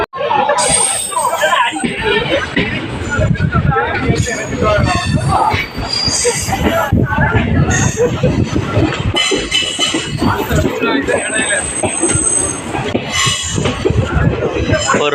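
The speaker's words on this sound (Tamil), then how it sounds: "நமக்கு இப்போ திருச்சி நம்ம ஸ்டேஷன் நம்ம என்ட்ரு ஆகிட்டு இருக்கோம்." Express train rolling into Trichy (Tiruchirappalli) railway station, loud and continuous with steady rail rumble and screeching wheel squeal throughout, while platform crowd chatter and speech run underneath.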